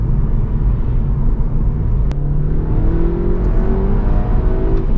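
Volkswagen Golf GTI Mk6 on the move: loud, continuous engine rumble with the revs climbing smoothly through the gears under road noise, and no one talking.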